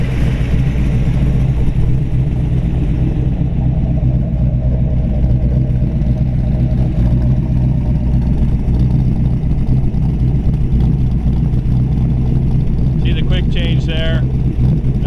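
Close and loud, the engine of a 1932 Ford roadster hi-boy with a Brookville steel body runs at a steady rumble throughout, with a brief higher sound near the end.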